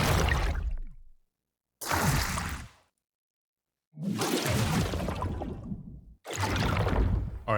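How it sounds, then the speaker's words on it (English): Four separate magical water sound effects from the Audio Apocalypse bundle, each a rushing, splashing whoosh lasting about a second, with clean silence between bursts. "Now let's see what water magic sounds like."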